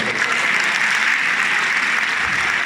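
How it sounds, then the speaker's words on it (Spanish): Dense, steady applause from the audience at a medical conference on avoiding lawsuits, a loud, even wash of many hands clapping throughout. "Un aplauso."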